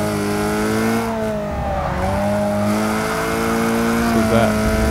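Race car engine in Forza 6, sustained loud harmonic drone rising and shifting in pitch as it accelerates, with brief dips around gear changes, steady throughout with faint voice underneath.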